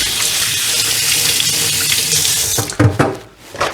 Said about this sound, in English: let me rinse my hands off one more time